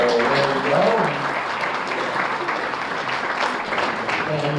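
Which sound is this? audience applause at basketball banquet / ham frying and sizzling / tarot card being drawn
audience applause at basketball banquet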